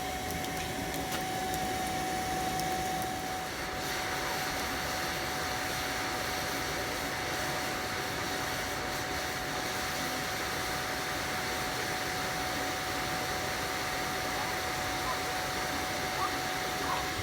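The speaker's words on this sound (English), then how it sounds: "We got a blow dryer going into the fire for some reason." Blow dryer forcing air into a small DIY forge fire, a steady, fairly loud whooshing hum that runs unbroken for the whole stretch with a faint tonal whine riding on it.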